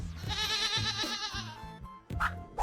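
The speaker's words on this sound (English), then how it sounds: "It's a goat. That's right, it's a goat." A horned goat gives one long, wavering bleat up close, loud and alone, then a shorter second cry near the end.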